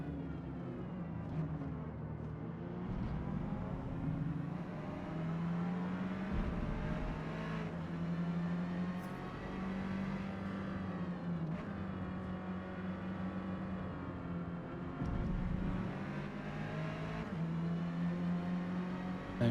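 An Alfa Romeo 4C four-cylinder race car in Forza Motorsport (2023) drones steadily at high revs through a long racing stretch, its engine pitch climbing and dipping with gear changes and a few brief lifts.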